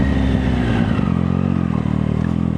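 Triumph Daytona 660 motorcycle engine running close and loud with a steady buzzing drone; its pitch shifts and drops near the one-second mark, as from a quick-shifter gear change with auto blip.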